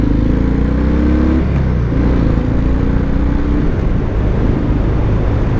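A 2019 Harley-Davidson FXDR 114 motorcycle leans through a corner, its big V-twin engine giving a steady, loud, close drone that rises and falls slightly with the throttle, with wind rush underneath and no talking.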